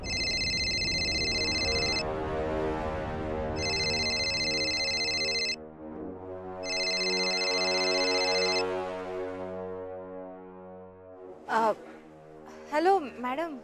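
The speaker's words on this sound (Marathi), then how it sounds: "फोन आलाय" A telephone rings with a repeating electronic tone in several bursts over music and a low drone, loud and close, in a Marathi TV serial household scene.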